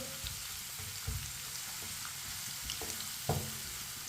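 Whole cumin seeds and two finely chopped onions frying in oil in a pan for karela dal, a steady soft sizzle with a few light stirring knocks.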